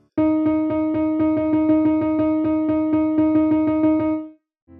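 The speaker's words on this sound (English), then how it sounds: "One more example is having 3 16th notes in a time of 2 16th notes." A rapid, evenly spaced run of about twenty repeated pitched notes in sixteenth-note triplets, played alone at a steady pace and stopping cleanly after about four seconds.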